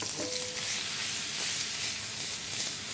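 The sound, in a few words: garlic and onion frying on high heat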